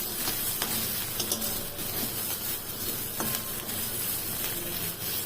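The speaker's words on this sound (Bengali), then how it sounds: "আদা কুচি রসুন কুচিটা একটু ভেজে নেবে" Chopped ginger and garlic fry in butter or oil in a pan with a steady, dense sizzle throughout, close and fairly loud, with a few soft stirring knocks.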